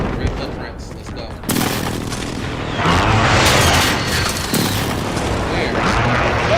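Heavy booming explosions from an enemy precision airstrike in a first-person shooter video game, loud and layered, with a sudden blast at about 1.5 seconds and a stronger surge near 3 seconds that rumbles on continuously.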